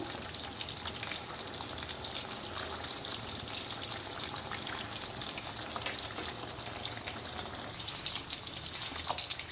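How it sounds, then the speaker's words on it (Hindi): Lahori fish fry cooking in oil in a pan over a low-to-medium flame, a continuous crackling sizzle with bubbling spatter, close and steady throughout. "लाहौरी फ़िश फ्राई हमारी बड़ी अच्छी सी फ्राई हो रही है।"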